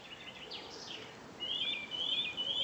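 Birdsong outdoors in a huge oak tree in Bożków, Poland, faint twittering at first, then a clearer high trilling call repeating toward the end over soft background air.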